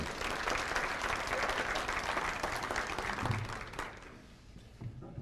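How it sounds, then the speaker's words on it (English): At a Hall of Honors banquet in Portales, New Mexico, the crowd gives the catering staff a round of applause, a dense steady wash of clapping that fades toward the end. "please, big round of applause for Sodexo"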